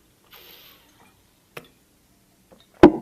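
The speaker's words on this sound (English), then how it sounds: "I'm going to take a little sip of water." Quiet small sounds from a person taking a sip of water at home: a faint rustle, a short tick, then a sharper close gulp or clack near the end, all in otherwise silent surroundings.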